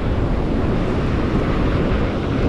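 Strong wind buffets the microphone while sea waves surge and wash against the shore, a loud, continuous roar with no pause.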